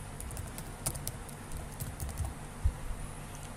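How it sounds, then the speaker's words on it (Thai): Password typed on a computer keyboard while logging into Gmail, a quick run of soft, close key taps with one firmer press near the end, heard alone over a low background hum. "ก็พิมพ์รหัสผ่าน"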